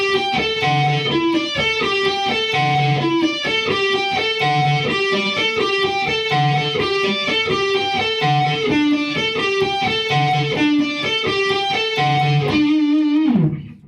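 Electric guitar played on the neck pickup with distorted, effects-laden tone, a loud, sustained riff of repeating phrases that runs steadily throughout and ends abruptly.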